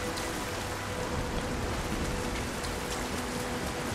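Steady rainfall in the Nioh video game, during the Mount Hiei stage, forms a dense, even hiss of drops throughout with faint underlying rumble and no speech.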